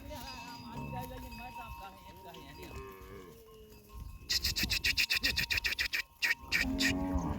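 A herd of cows on the move along a village route in Kutch, Gujarat, with cattle sounds, lowing and a rapid run of clanking bells or hoof clatter in the second half, people talking nearby.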